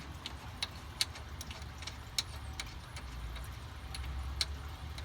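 A ratchet clicks in quick, irregular bursts while loosening the two 13mm bolts that hold the radiator in a 2005-2006 Chevy Avalanche, close and fairly quiet over a low background rumble.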